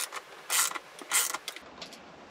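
A 5/16 ratchet tightening bolts on a 2018 Airstream Base travel trailer gives two short bursts of clicking and a few lighter ticks, close and alone.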